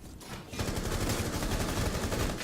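Gunfire in Rainbow Six Siege, a loud continuous burst of rapid automatic shots starting after a brief quieter moment and running steadily to the end.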